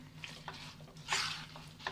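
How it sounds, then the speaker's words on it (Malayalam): Soft scraping and light sizzling as spaghetti noodles are stirred and tossed in a pan for an Indo-Chinese mixed non-veg dish, faint and close, with a brief louder rustle midway. "ഇനി ബാക്കി വന്ന നൂഡിൽസ് നമുക്ക് കുറേശ്ശെയായിട്ട് ചേർത്ത് കൊടുത്ത് മിക്സ് ചെയ്യാം."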